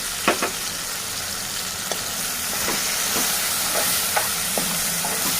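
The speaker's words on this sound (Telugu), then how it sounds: "ఇప్పుడు కారం, ధనియాల పొడి వేసి బాగా కలపాలి." Chili powder and coriander powder stirred into raw banana curry frying in a pan, a steady close sizzle with a few soft spoon scrapes and taps scattered through it.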